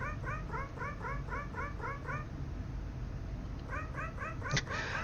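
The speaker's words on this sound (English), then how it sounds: "I like the cat sounds whenever he talks" Short, chirpy cat meows from the video game Nightmare of Decay repeat in a quick series, pause, then return, all over a steady low background hum.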